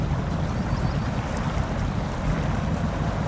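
An Isuzu Trooper with a tall snorkel pushing through deep water against strong currents in SnowRunner, heard as a dense, continuous low rushing and sloshing wash with an engine drone underneath.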